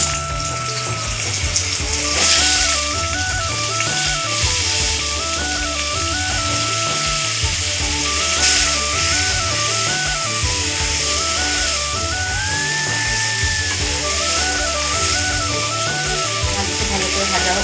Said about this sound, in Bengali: দেখুন আলুগুলো ভালো করে ভাজা হয়ে গেছে,